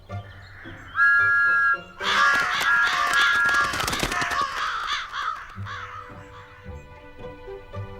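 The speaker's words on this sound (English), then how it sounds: "He hooted and tooted all night long to scare away the crows." A cartoon steam engine, Thomas the Tank Engine, gives loud whistle toots while crows caw repeatedly nearby, with bursts of harsh cawing and bright whistle blasts overlapping, then fading to quieter calls.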